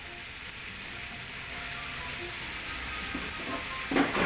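Steady, close sizzling of frozen chicken frying in a hot pan, a constant bright hiss with a few soft stirring scrapes near the end.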